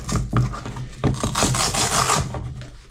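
Steady, loud rasping of a sanding pad scrubbed back and forth over wood, close up, in continuous strokes with no talking.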